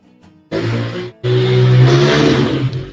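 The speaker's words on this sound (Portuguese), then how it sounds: "Olha a moto." A motorcycle engine roars in loud and close, briefly drops off, then revs up again and holds a strong, rising and falling drone before easing at the end.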